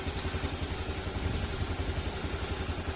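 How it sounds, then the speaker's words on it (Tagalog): A Honda Click 150 scooter idles at close range, its engine putting out a steady, evenly pulsing mechanical hum with light clatter. "umaandar pa rin yung motor, hindi pa rin siya namamatay"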